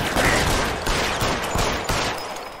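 Gunfire in L.A. Noire during a police shootout, a dense barrage of overlapping shots and impacts, loud and close, fading slightly toward the end.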